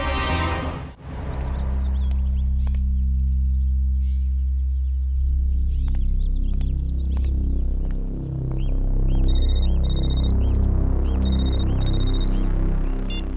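A phone rings in a CID crime drama scene, repeated electronic ringing bursts in a pulsing pattern over loud, throbbing dramatic background music.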